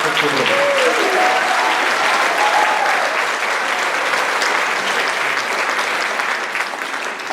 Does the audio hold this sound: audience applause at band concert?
yes